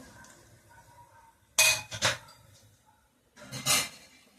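Cookware clatter as a second pan goes onto the stove for oil to be poured while cooking okra curry: a sharp metallic clunk and rattle around the midpoint, then another scraping clink near the end, close by with quiet gaps.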